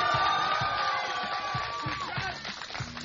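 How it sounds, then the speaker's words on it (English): A crowd of kids at a Boston skateboarding event cheers and whoops for a pro skateboarder, a loud sustained roar of voices with scattered shouts, fairly close and continuous, easing slightly toward the end. "Round of applause."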